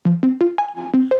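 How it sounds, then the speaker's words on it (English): Short saw wave synth stabs with a snappy filter envelope on the cutoff hit seven times in a quick rising-and-falling pattern, each note bright at the attack and quickly dulling, dry and up front. "Very super like kind of a saw wave, just a short saw wave with like an envelope on the"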